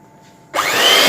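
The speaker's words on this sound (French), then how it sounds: "Je vais venir avec mon batteur mélanger" An electric hand mixer beating cake batter switches on abruptly after a quiet moment, then runs loud and steady with a close, rising whirring whine.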